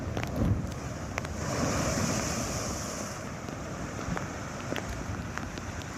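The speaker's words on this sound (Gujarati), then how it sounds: "દરિયામાં 10 ફૂટથી વધુ ઊંચા મોજા ઉછળતા જોવા મળ્યા" Rough sea at Alang with waves over ten feet high crashing continuously, a broad loud roar of surf mixed with gusty wind buffeting the microphone, swelling in the middle and holding steady, no voices.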